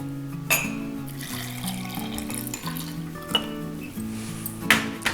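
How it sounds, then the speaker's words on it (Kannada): Milk is poured into powdered rock sugar in a kitchen, a close liquid trickle with light clinks of utensil and vessel and a few sharper knocks, no talk. "ಇದಕ್ಕೆ ಹಾಲನ್ನು ಬೆರೆಸ್ಕೊಳ್ಳೋಣ."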